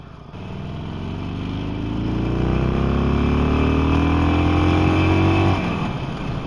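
Harley-Davidson Sportster 48 (2020) motorcycle engine revving up on a ride, a loud, steady rumble that climbs in pitch over several seconds before easing off near the end.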